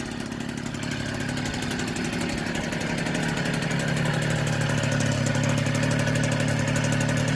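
A rebuilt 1964 NSU Quickly S23 three-speed moped engine runs steadily at close range, a continuous buzzing putter that grows slightly louder and rougher partway through, with no voices.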